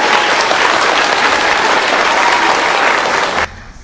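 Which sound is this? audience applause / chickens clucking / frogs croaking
audience applause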